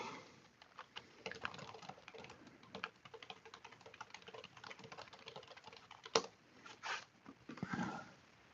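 Typing a search query on a computer keyboard: rapid, uneven key taps that continue steadily for several seconds, with a few louder clacks near the end, close and fairly quiet, with no voices.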